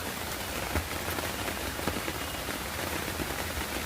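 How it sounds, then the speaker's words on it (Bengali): Rain falls on a rooftop garden of lemon, rose and butterfly pea plants, a steady dense patter of drops with no voices. "বৃষ্টির মধ্যে অন্যরকম একটা ভালোবাসা আছে"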